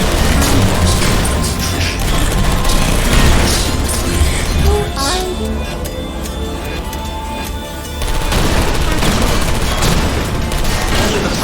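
Automated turrets in the game Portal Stories: Mel fire dense bursts of rapid gunfire with crashes and smashing debris, loud and continuous, with a brief lull in the middle before the shooting resumes.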